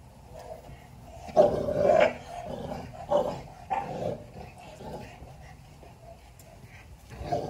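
A Tibetan mastiff barks and growls at a Husky Akita mix in a few rough, irregular bursts, close by and fairly loud, with quieter whimpering between them.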